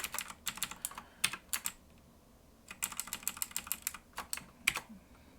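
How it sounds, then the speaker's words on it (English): Fingers typing on a computer keyboard: two quick runs of crisp key clicks split by a short pause, fairly faint and close, with no talking. "Let me type. What do we type?"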